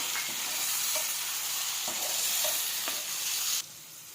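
Tomato puree hits softened onions in a hot pan and sizzles steadily, with a loud continuous frying hiss and a few scrapes of stirring, for a vegetable curry of peanut bhajiya.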